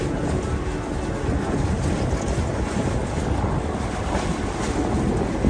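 Steady broadband engine and water rumble of a motorboat running close by near Cabbage Key amid heavy boat traffic, continuous throughout with wind buffeting the microphone.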